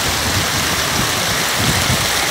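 Water from the hills flowing in the Ghaggar river, rushing and gurgling steadily as a close, continuous broadband wash with no breaks and no voices.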